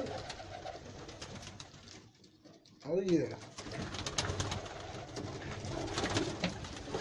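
Pigeons cooing in a backyard loft of young rolling pigeons, soft repeated coos close by with a short sharper call near the middle, under a steady bed of bird noise while someone speaks briefly.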